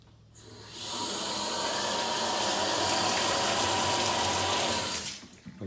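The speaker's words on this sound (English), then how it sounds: "Nice waterfall faucet." A waterfall faucet gushes water in a steady, close stream for several seconds before being shut off.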